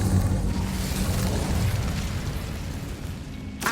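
A fire spell blast in the video game Hogwarts Legacy, a loud sustained booming rush of flame that fills the whole moment and fades slightly toward the end.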